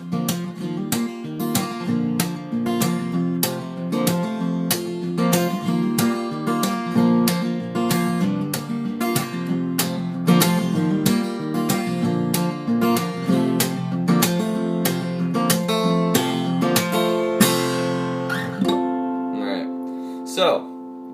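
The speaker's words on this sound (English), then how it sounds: "So, that's the train beat" Acoustic guitar played with a percussive train beat, steady driving chugging strums with slapped accents keeping a rapid even rhythm, close and loud for about twenty seconds before tapering off.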